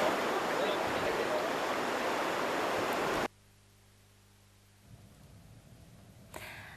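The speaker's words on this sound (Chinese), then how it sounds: "沙田城门河都睇到天鸽嘅威力，河水涌上行人路同单车径。" The Shing Mun River in Sha Tin surges onto the footpath and cycle track during Typhoon Hato. A loud, steady rush of water roars for about three seconds, then cuts off abruptly into a much quieter background.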